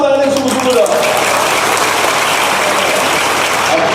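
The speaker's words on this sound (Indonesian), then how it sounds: "Kasih tepuk tangan yang sungguh-sungguh dong." Congregational applause at a church service in Medan, a dense, steady wash of clapping hands from a large crowd that fills the space at full strength, with some voices mixed in near the start.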